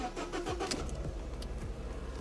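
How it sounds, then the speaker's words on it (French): A car engine cranks and catches during maintenance before an oil change, a brief faint start with a rough, low rumble settling toward idle, heard from some distance without talk. "maintenant, je vais démarrer le moteur"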